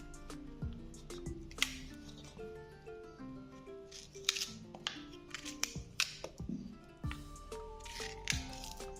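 A knife cuts through fresh peaches and pries out the pits, giving a run of soft squishy slices and sharp taps on a board, close and irregular with no talk.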